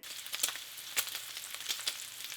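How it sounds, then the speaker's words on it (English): Bacon slices sizzling in a pan, a steady crackling hiss broken by a few sharper pops, close and moderately loud with no voices. "So begin by cooking your bacon."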